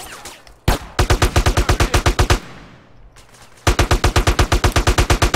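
Rapid automatic AK rifle fire in the GTA video game, two long loud bursts of evenly spaced shots separated by a short pause, with no talking over it.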